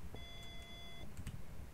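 Open household fridge beeping in another room, a faint steady electronic tone with a few short bleeps, heard distantly under low background hum.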